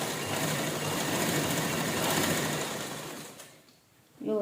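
A sewing machine stitches a fitted top with sleeves attached, running in a loud, steady whir for about three and a half seconds before slowing and stopping, after which a voice briefly begins.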